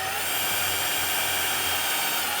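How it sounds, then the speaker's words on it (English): Power drill boring a hole into a coolant hose on a DeLorean engine, a steady loud whirring whine held unbroken throughout, close up with no talking. "Just drilling a hole in there."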